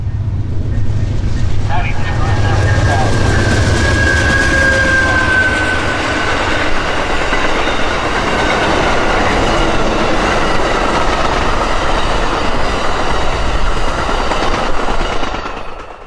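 An Amtrak train rolls through Lakeland station, a loud, continuous rumble with clanking wheels and a brief squeal, while voices talk over it.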